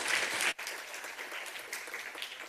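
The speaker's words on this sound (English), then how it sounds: "please give an applause to David Sidrane" A conference audience at a PX4 developer summit gives a short burst of applause that cuts off abruptly, followed by quieter room noise and a few scattered claps.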